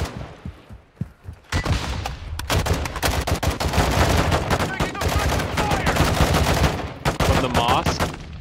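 Gunfire in Call of Duty Warzone, rapid automatic bursts and scattered single shots packed densely together at close range, after a quieter opening.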